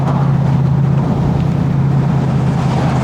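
A Lexus SC 430 driving, with a loud, steady low engine drone and road rumble heard from inside the car, no voices.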